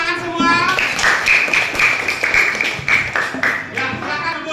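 Children clapping together in an elementary school classroom after a group is named the winner, a dense patter of small hands with a teacher's voice and children's voices over it.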